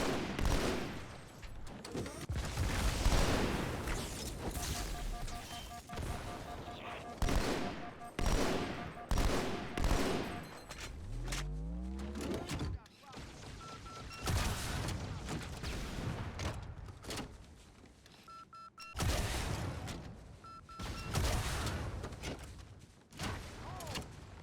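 Rapid gunfire from a rifle clearing enemy turrets in Halo 2: Anniversary on the Delta Halo mission, loud repeated bursts and volleys with booms and mechanical clatter, with no talking over the combat.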